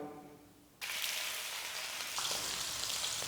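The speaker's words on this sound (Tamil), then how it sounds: "இப்போ எண்ணெய் சூடானதும் ஒரு பீஸாக எடுத்து எண்ணெயில் சேர்த்துடலாம்." Marinated fish pieces drop into hot oil, bursting into loud, close sizzling that holds steady and crackles on to the end after a quiet opening.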